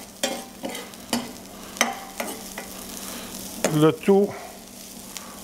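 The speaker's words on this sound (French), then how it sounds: "On appelle ça suer des légumes." Celery and other vegetables sweat in a pan, giving a soft, steady sizzle with several sharp clinks of a utensil stirring against the pan. A short spoken phrase comes near the end.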